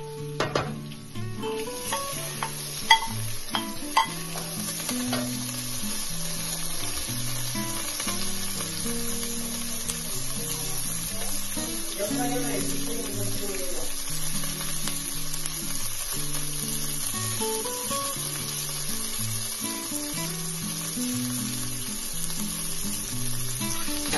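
Onion, ají pepper, bell pepper, celery and other vegetables frying and being stirred in a pan, a steady close sizzle with scraping stir strokes running throughout, with no talking.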